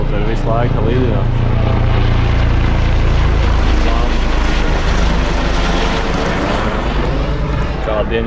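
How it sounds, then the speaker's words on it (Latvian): A helicopter flies low overhead near a garage, its loud, thudding rotor and engine drone filling the scene throughout, with speech partly buried beneath the noise. "Vienkārši helikopteri visu laiku lidināt."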